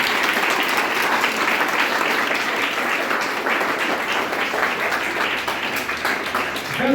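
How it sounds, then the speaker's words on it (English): Audience applause from a group of participants, continuous close clapping that stays steady and full for the whole stretch without pause. "Applause for yourself."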